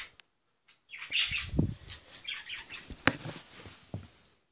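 Small birds chirp and tweet in the background, with scattered short calls and some fluttering, moderately close, no talking.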